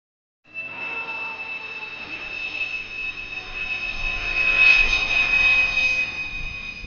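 A Rafale fighter jet roars steadily for several seconds, swelling slightly louder toward the end, with a sustained high whine over low rumble and no speech.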